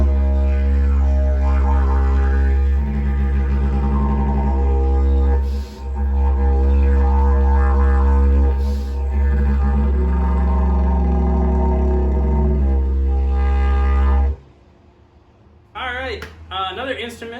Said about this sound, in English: this is called a Didgeridoo